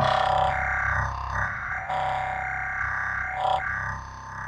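A grimy, frequency-modulated dubstep bass synth growls and wobbles continuously, its tone shifting in pulses over a few seconds, with no voices.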